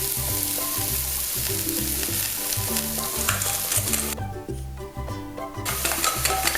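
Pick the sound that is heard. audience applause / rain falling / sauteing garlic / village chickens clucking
sauteing garlic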